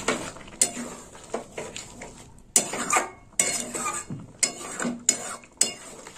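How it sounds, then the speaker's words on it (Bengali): A spoon stirring bottle gourd milk pudding in a metal pot as sugar goes in, producing irregular clinks and scrapes against the pot in bursts with short pauses, close and clear. "এবার মিষ্টিটাও দিয়ে দেবো। আর একটু নেড়ে চেড়ে নেব।"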